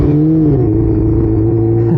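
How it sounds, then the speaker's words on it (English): A sport bike's exhaust drones loudly and close for about two seconds as a steady engine tone dips slightly in pitch, with no voices. "Oh, that exhaust does sound nice though."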